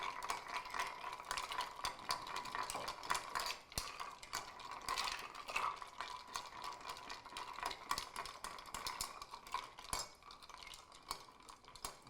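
A tall bar spoon stirs a drink, giving a steady run of fine metallic clinks and scraping ticks that repeat without pause at close range, with no voices.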